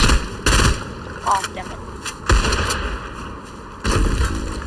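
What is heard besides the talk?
gunfire in the video game Reload Zero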